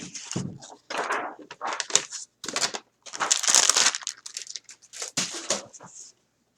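Scissors cut through a folded sheet of craft foam, with short crinkly snips and crunches in uneven bursts, close and fairly quiet.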